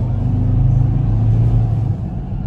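A Ford Ranger Wildtrak pickup with a 3.2-litre engine accelerates, its deep, loud engine rumble rising and pulling steadily from inside the cab before easing off.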